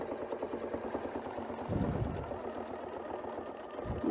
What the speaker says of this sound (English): So this one, we're going to sew the whole shape